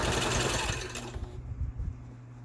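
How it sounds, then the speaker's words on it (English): A sewing machine buzzes briefly as it sews shut an open seam on a fabric mask, a fast vibrating run that fades out, leaving quiet shuffling handling noise. "you're going to sew that seam that is open, and you're going to sew that shut"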